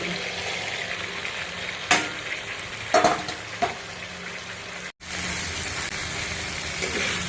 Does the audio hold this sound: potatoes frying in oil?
yes